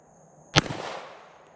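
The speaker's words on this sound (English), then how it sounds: "Gun fires really nice, runs really well." Zastava M70A pistol fires a single sharp, loud shot outdoors, followed by a brief decaying echo.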